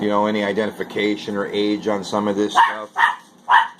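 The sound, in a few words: small dog barking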